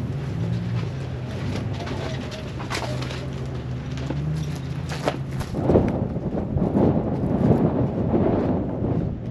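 Wind buffets the microphone outdoors at an off-road racing event in the desert, a constant low rumble that swells and gusts louder toward the end, with no talking.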